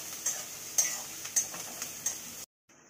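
Onions and green chili fry in a pan under a soft steady sizzle, broken by a regular series of clicks and scrapes as the spatula stirs, before a brief cut to silence.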